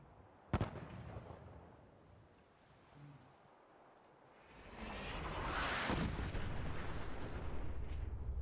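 A single sharp distant boom of artillery fire in Fallout 4, followed by a low rumbling swell that builds into a sustained roaring wash of noise, with no talking.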